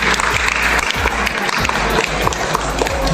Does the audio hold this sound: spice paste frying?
no